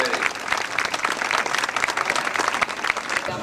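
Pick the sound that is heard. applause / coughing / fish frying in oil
applause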